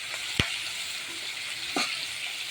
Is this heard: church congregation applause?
no